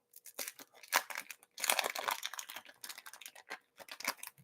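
Packs of 1993 Topps Series 1 baseball cards rip open in close, crisp bursts of tearing and crinkling wrapper, with short quiet gaps between.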